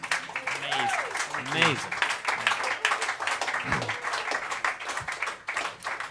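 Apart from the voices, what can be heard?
concert audience applause for the sound guy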